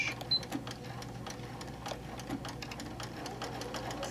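A sewing machine runs steadily as it sews straight across a half-inch seam on fabric for a camper-panel machine cover, with a continuous motor whir and rapid needle clatter close by.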